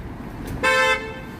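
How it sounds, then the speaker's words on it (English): A car horn gives one short, loud toot on a city street, cutting over the steady low rumble of passing traffic. "People need to stop honking."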